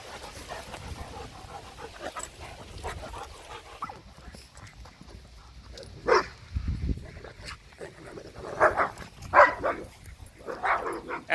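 A puppy yaps and barks in short, sharp bursts during a socialization session, with panting and people talking over it; the barks come in loose clusters toward the end.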